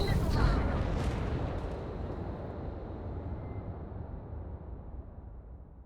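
Sustained broadband roar of weapons fire and explosions in a Starfield space battle, loud and dense from the start and slowly easing, with a sharp burst near the opening and voices mixed in the din.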